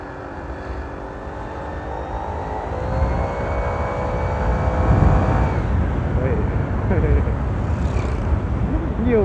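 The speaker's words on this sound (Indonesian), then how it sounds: "sekarang langsung aja kita coba tes suaranya kayak gimana si kipasnya ini" A Honda PCX scooter fitted with a turbo, a rising whining whistle over a buzzing engine drone as it revs and pulls away, loud and close, the whine climbing in pitch then settling, with a voice speaking over it.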